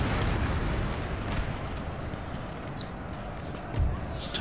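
Cannon volleys of grape shot in a Napoleon Total War battle rumble as a continuous low booming din, with a louder thud near the end, under a faint voice.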